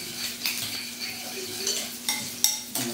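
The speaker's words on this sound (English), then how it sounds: "Gonna mix this all through." Crab cake mixture with corn, cilantro, salt and black pepper being stirred in a bowl, giving soft scraping and clinking of utensil against dish in an uneven rhythm, close and fairly quiet, with no talking.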